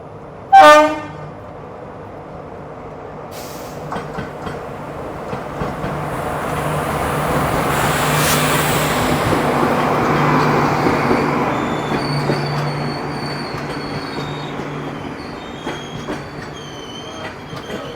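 Tutari Express train heard at a crossing, a sharp horn blast at the start, then a long rumbling pass of wheels and wagons swelling and fading, with squeals and clatter continuing near the end.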